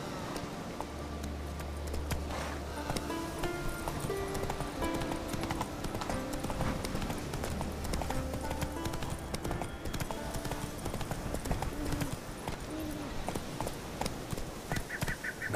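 Roach the horse's hooves clip-clopping in The Witcher 3: Wild Hunt on the Isle of the Mists, a continuous close hoofbeat rhythm with game music and occasional background effects.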